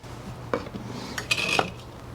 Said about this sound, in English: this is my handy corn grinder that I use to grind this clay up